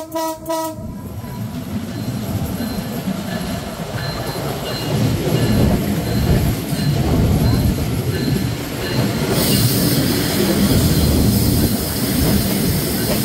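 A train horn blares at the start, then the Titumir Express rumbles steadily along the rails between Rajshahi and Chilahati, wheels clattering and carriages rattling loud and close throughout.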